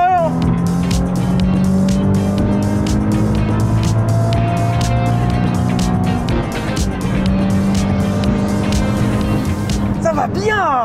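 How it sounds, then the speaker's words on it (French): A Nissan 350Z drift car with its front-mid-mounted engine: a sustained loud engine roar that rises and falls, with tire squeal and skidding throughout, continuous and close. "Et ce moteur dans le milieu, c'est ce qu'on pourrait appeler un joli moteur."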